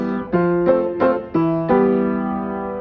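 Solo piano playing a phrase from The Legend of Zelda: Ocarina of Time without the sustain pedal, about six close, clear notes and chords struck in an even rhythm, the last left ringing and fading.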